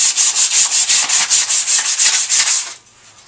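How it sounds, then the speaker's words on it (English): Rhythmic back-and-forth sanding on the wooden handle of a long-handled tool, done to clear out splinters, loud and close with steady repeated rasping strokes that stop just before the end. "Before I oil the wood part of my blade, my handle rather, I sand it down, making sure to remove any splinters"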